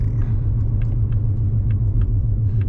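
Steady low engine rumble from inside a 2025 Whipple-supercharged Mustang GT with a six-speed manual, cruising on a rainy morning, with a constant drone throughout and no speech.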